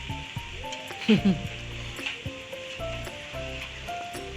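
Pork steak sizzles on a hot grill at a busy Isan steak restaurant, a continuous moderate hiss with some clinks and rubbing sounds and faint voices nearby.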